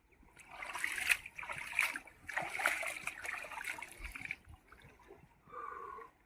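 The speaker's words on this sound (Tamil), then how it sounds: "தண்ணி ஃபாஸ்டா வருது." Fast-flowing water in an irrigation canal at Vaikalmedu near Tirupur rushes and splashes close by in uneven surges, with a faint voice briefly in the background.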